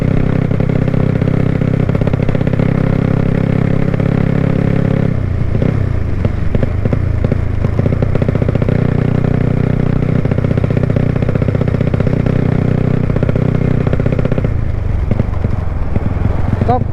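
A Honda Wave 110i motorcycle with a 72 mm piston and a four-valve head, ridden on the road while being run in, gives a steady, loud engine drone that holds for the whole stretch, with short dips in pitch.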